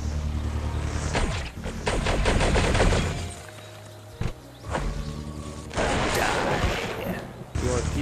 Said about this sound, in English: Whoa, you shooting at me?